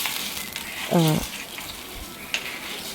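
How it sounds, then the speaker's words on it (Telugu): Semolina is stirred into boiling water in a pan for upma, a soft sizzling bubble under scraping strokes, with one brief voiced sound and a faint clink of the spoon. "నీళ్ళు బాగా మరిగిన తర్వాత రవ్వ వేసుకుని కలుపుకోండి"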